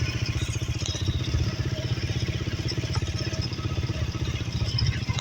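A motorcycle engine runs steadily close by with a fast, even pulsing chug and light clatter, holding a constant idle-like rhythm throughout with no voices over it.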